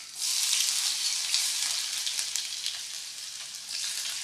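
A steady, crackling sizzle of bitter gourd frying in hot coconut oil in a small pan, close and fairly loud, with no voices.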